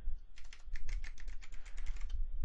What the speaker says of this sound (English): So we type in Goohost dash T for